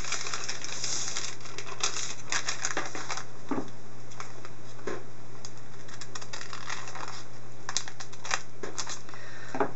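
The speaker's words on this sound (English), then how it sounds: "So you cut right along this crease up to where it intersects the next fold." Scissors cutting along a crease in a paper bag, a series of crisp, close snips and paper crunches in an irregular rhythm over a steady low hum.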